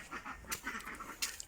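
Indian runner ducks in a backyard poultry area, a few soft nasal quacks and rustling close by over a low background.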